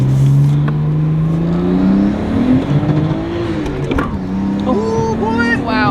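Nissan R32 Skyline with an RB25 turbo swap pulls hard from a brake-boost launch, engine note rising steadily and loud from inside the car, with gear changes and a passenger voice briefly audible under it.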